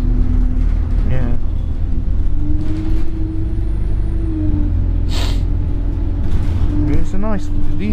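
Enviro 200 Euro 6 single-deck buses pass close by with a loud steady rumble, hissing air brakes and a rising engine whine, while people chat over the traffic noise.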